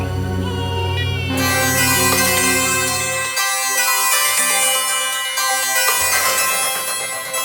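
A mobile phone plays a melodic ringtone for an incoming call from a wife, loud and tuneful with a steady run of sustained musical notes and no talk.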